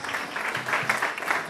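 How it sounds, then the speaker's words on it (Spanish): Wedding guests clapping for the godparents, a steady, moderately loud patter of many hands through the short stretch. "Una vez más les pido fuertes aplausos para los flamantes padrinos"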